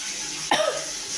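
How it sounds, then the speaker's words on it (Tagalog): A single sharp cough close to the microphone, breaking a quiet background with a faint hum. "Isang ubo yun"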